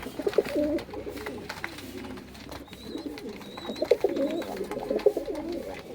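Giribaz high-flyer pigeons cooing softly nearby, repeated throaty rolling calls in irregular bursts, with faint clatter and a thin whistle in the background.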